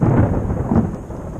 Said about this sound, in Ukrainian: Тільки що був дуже сильний спалах і громовиця була.